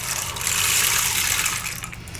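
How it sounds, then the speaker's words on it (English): A rain disc is played in a prosperity ritual, giving a continuous bright, water-like rushing hiss that swells and fades slightly, with no speech. "let's call in with this first round of the rain disc, this water energy"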